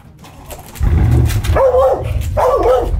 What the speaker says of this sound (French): il va aboyer et tout